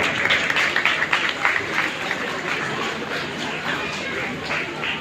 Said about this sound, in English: A big round of applause for my parents also.